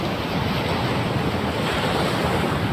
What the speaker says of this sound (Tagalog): Pagka yung nagbagyo, malaki ang alon. Pacific Ocean yan.